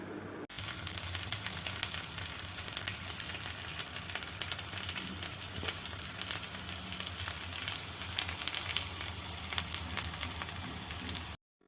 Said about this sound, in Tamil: ஒரு தோசைக்கல்லில் தேங்காய் எண்ணெய் ஊற்றிக்கிட்டு ஒரு பீஸாக எடுத்து கல்லில் போட்டுக்கலாம். மீடியம் ஃப்ளேமில் வச்சு நல்லா ஃப்ரை பண்ணிக்கலாம்.